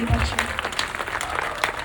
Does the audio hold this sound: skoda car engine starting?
no